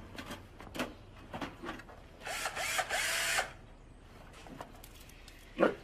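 A power drill or similar power tool whirs in one steady burst of about a second, surrounded by scattered clicks and mechanical handling noises, fairly quiet and close.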